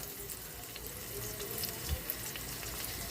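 Butter and garlic sizzle in a hot pan, a steady, close crackling hiss with small pops scattered throughout.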